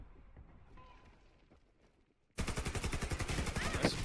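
Gunfire in the video game Warface bursts in abruptly after a quiet stretch, a rapid string of loud, sharp cracks repeating close together until the end.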